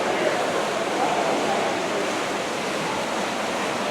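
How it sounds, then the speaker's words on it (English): A waterfall at a Disney World resort pours in a steady, dense rush of broadband noise, constant and fairly loud throughout with no distinct breaks. "We come over here, we got a waterfall."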